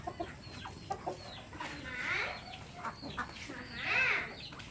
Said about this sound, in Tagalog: Ito mga bagong pisa na Red Rhode Island.